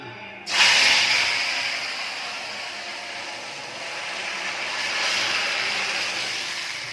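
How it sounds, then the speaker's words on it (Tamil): A sudden loud hiss bursts in as oil hits a hot pan, settling into a steady, close sizzle that swells slightly again near the end. "பொரிக்க போகிறேன். பொரிக்கிறதுக்கு ஊற்றுறேன்."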